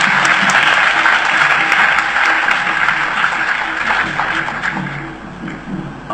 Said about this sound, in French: je voudrais vous inviter à les applaudir.